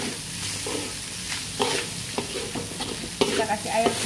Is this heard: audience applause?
no